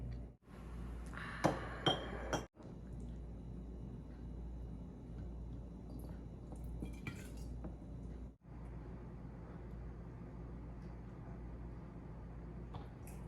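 Glass quart canning jars clink a few times in quick succession while chili is filled into them for pressure canning, followed by a low steady kitchen hum with faint scattered knocks.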